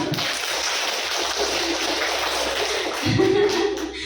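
A room full of teachers claps together at a school workshop on positive school culture: dense, steady applause filling the whole stretch, swelling slightly louder toward the end, with faint voices mixed underneath.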